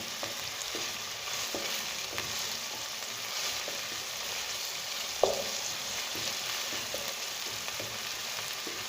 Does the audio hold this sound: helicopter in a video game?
no